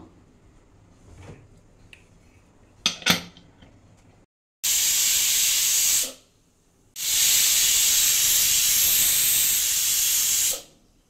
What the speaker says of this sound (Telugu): ఇది కుక్కర్ మూత పెట్టేసుకుందాం అండి. 2 విజిల్స్ రాగానే ఆఫ్ చేసేద్దాం.